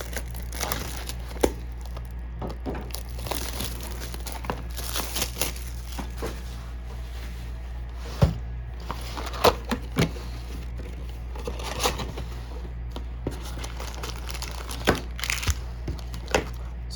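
A Lord of the Rings Two Towers trading card booster box is cut open and unwrapped. Intermittent crinkling, tearing and plastic rustling come in sharp bursts over a quiet, steady background.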